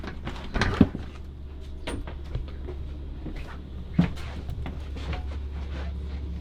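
A bathroom door in a Class C RV swings shut, with a couple of firm knocks and thuds in a small enclosed space over a low steady hum.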